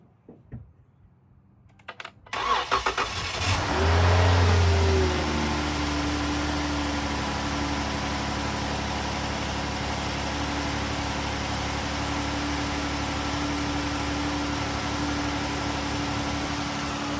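A retired police Dodge Charger cranks over and fires up after a quiet start, flaring to a brief loud rev before settling into a steady, close, rumbling idle that holds to the end.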